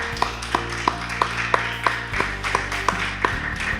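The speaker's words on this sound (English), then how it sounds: "please give a great round of applause for all of these women that have shown up here tonight" Evenly spaced claps at an evening women's small business event, sounding like one or two people clapping steadily and close over a sustained electronic hum or music bed.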